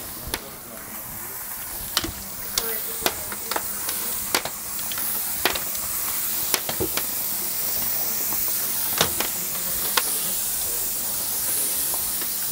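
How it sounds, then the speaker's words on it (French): A steam mop pushes out steam over a wooden floor in a steady, continuous hiss, with sharp little clicks and taps scattered through it. "Vapeur, plus de vapeur."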